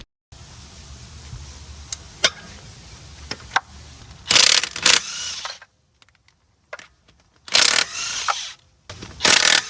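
Lug nuts come off a Dodge Avenger wheel with a burst of loud ratcheting or impact-wrench rattles, separated by sharp metallic clicks and clinks as nuts and tools are handled.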